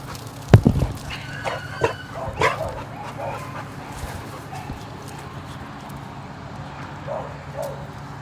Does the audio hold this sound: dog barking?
yes